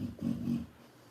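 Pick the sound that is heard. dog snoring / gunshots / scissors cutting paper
dog snoring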